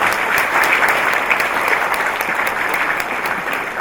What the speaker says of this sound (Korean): 큰 박수로 환영해 주시고.